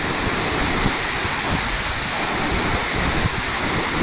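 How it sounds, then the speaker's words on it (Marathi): The flooded Ghod river, swollen by a dam water release of about 5,500 cusecs, rushes in a loud, unbroken roar of turbulent water with wind buffeting the microphone. "धरणातून पाणी गोड नदी पात्रात सोडल्याने गोड नदीला पूर आला आहे"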